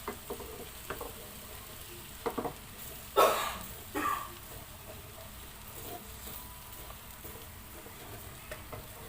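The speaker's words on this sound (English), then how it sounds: "Now we have to cook our egg." An egg cooks in a pan beside leftover vegetables for fried rice, a faint low sizzle with a few stirring knocks and one louder clatter midway.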